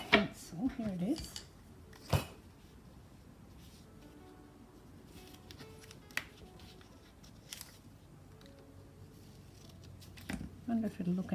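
Scissors snip through pages of old books at a craft table, with a few sharp isolated cuts and clicks spaced apart in a quiet room, while someone talks softly in between.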